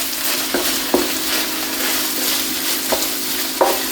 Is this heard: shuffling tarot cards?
no